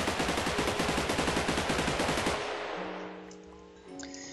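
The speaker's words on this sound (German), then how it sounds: "Dann hätten wir noch die Assault Rifle." A video-game assault rifle from the Minecraft Basic Guns Mod fires a loud, rapid full-auto burst for about two seconds, each shot evenly spaced, then the sound cuts off and fades into quiet game ambience.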